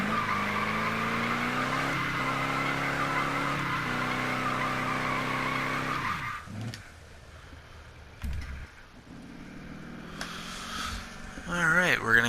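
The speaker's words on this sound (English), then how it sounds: "So here's for those people who love to see a burnout." A car doing a burnout with tires squealing hard and the engine roaring loudly and continuously for about six seconds, then settling into quieter engine rumble and scattered squeals, with voices faintly audible underneath.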